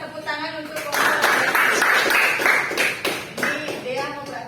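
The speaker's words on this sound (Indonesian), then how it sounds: "Kita berikan tepuk tangan untuk kelompok." A classroom group gets a burst of clapping, with many hands applauding steadily for about three seconds while a teacher talks over it.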